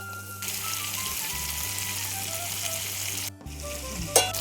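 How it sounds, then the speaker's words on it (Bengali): Fried potato and cauliflower pieces sautéed with spices in a pan for a fish curry, giving a steady close sizzle with stirring scrapes, a brief break, then a sharp clatter near the end. "এবার ভাজা করা আলু আর ফুলকপিটা দিয়ে দেবো।"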